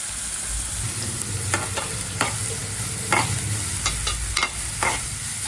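Sliced onions frying in a pan with salt and turmeric, a constant close sizzle with irregular scraping and tapping strokes from a stirring utensil, no voices.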